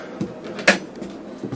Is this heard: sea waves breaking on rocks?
no